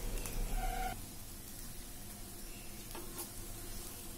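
Atta masala dosa frying on a hot pan with a little ghee, a soft, steady sizzle that runs throughout, slightly louder near the start, with no talking.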